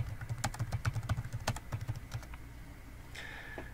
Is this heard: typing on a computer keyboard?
yes